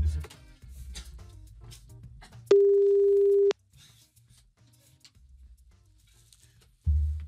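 A telephone line tone plays during a live radio show callback, a single steady one-second tone standing alone between stretches of quiet studio background, with no talking.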